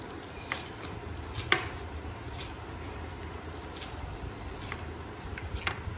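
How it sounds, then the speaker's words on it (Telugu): A knife slices leafy greens thinly on a cutting board, giving a steady run of soft, quick taps with occasional sharper clicks, fairly faint and close. "ఇలా సన్నగా కట్ చేసుకుంటే బాగుంటుంది"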